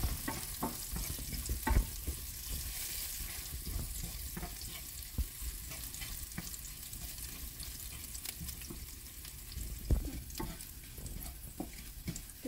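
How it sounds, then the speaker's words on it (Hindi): Garlic, green chili and onion frying in oil in a pan, a steady soft sizzle with occasional stirring clicks and scrapes, close but fairly quiet throughout. "इसको पहले फ्राई करेंगे थोड़ा, जैसे ही हल्का सा फ्राई हो जाए गोल्डन ब्राउन"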